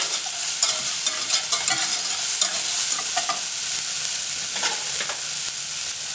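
Finely chopped shallot gently sautéing in a pan for a port sauce, a close crackling sizzle broken by repeated scraping stirs of a utensil across the pan bottom, with no talking.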